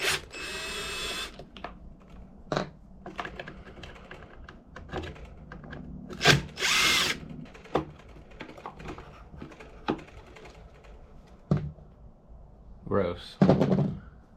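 A power drill backs screws out of a leaf blower: several short whirring bursts, close and moderately loud, scattered among clicks and handling clatter on a workbench.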